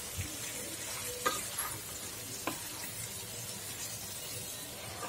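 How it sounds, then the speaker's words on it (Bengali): Fried pumpkin being stirred into a cooked spice paste in a pan makes a faint low sizzle, broken by a few sharp scraping taps of the spoon against the pan. "এবার এই কষানো মশলার মধ্যে আমি যে ভেজে রাখা কুমড়োটা রেখেছিলাম সেটা আমি এর মধ্যে দিয়ে ভালো করে মশলার সাথে মিশিয়ে নেব।"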